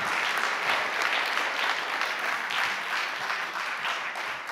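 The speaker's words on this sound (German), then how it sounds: "Dankeschön, kräftigen Applaus, Christoph Peschek." A large crowd at Steffen Hofmann's farewell event applauds Christoph Peschek, a dense, sustained wash of clapping that stays loud and even throughout with no talk over it.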